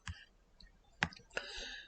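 A computer mouse clicks three times in separate, sharp close-up taps while working in Microsoft PowerPoint, with quiet room tone between the clicks.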